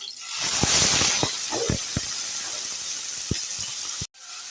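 Bitter gourd and potato hit hot white oil in a heated kadai with broken green chilies, bursting into a loud, continuous hissing sizzle with scattered spitting pops, then cutting off abruptly near the end.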